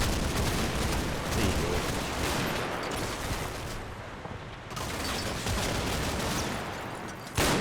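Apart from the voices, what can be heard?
Bren light machine gun firing in Combat Mission video game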